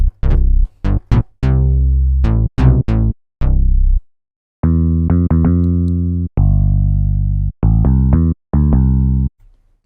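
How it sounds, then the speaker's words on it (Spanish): FL Studio's Sytrus synthesizer plays a run of bass presets: short punchy plucked notes first, then longer sustained buzzy bass tones in a rhythmic sequence, loud and dry with brief silences between phrases. "Vamos a escuchar unos cuantos bajos."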